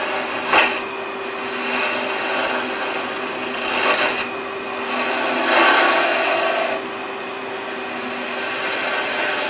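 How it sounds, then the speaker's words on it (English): A bowl gouge cuts on a lathe, rounding off the bottom of a turned wooden bowl. Continuous raspy scraping comes in several passes with brief pauses between them, close and fairly loud, with no speech. "take a bowl gouge, and what we'll do is we'll round off the bottom of it"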